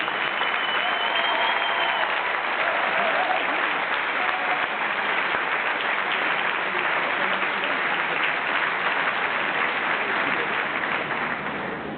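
Long, sustained applause from an evening crowd honouring the builders of a racing sailboat at its christening, a thick, even roar of clapping that holds steady for over ten seconds before tapering slightly.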